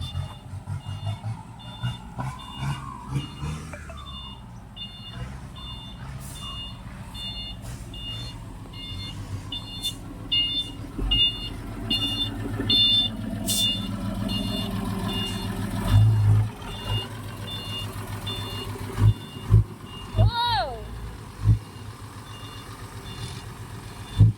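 A yellow dump truck reverses toward a tipping spot at a Thai earthworks site, its backup alarm beeping steadily over a low diesel rumble and clattering, with a few louder knocks near the end.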